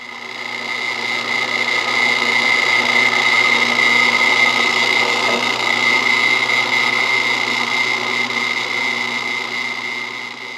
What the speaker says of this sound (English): we're going to go drill our hole, the hole that's going to pivot this hinge open and close